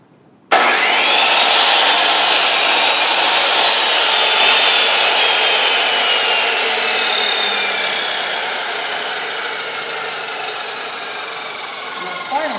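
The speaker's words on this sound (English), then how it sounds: "Step 5 is to trim one end off just a little bit, and we call that a fuzz cut." A power saw makes a fuzz cut, trimming about an eighth to a quarter inch off one end of a wood board to square it. It starts abruptly, whines loudly and steadily for about twelve seconds, then eases slightly before stopping.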